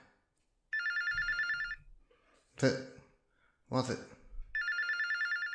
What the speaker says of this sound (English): Phones have been ringing off the hook all night.